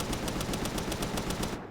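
Rapid automatic laser gun fire in the video game Palworld, a steady burst of evenly spaced shots at close range over continuous game noise, cutting off abruptly near the end.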